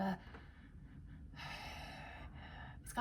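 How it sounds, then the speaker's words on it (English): Ragged, laboured breathing during a dysautonomia episode, heard close and fairly quiet as a couple of long, rough breaths with short pauses between them. "my breathing goes really ragged and kind of what I would describe as kind of labored."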